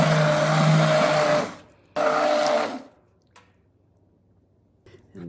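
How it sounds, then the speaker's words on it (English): An immersion blender whirring through crockpot potato soup, two close bursts of motor hum with a wet churning edge, the first about a second and a half long, the second shorter, then near silence. "So all I'm gonna do now is just use my immersion blender."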